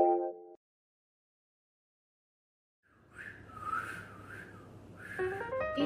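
A person whistles a few short, gliding notes at moderate volume over a noisy background, after a brief tonal burst and a stretch of near silence.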